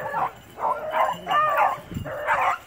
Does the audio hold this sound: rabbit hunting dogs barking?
yes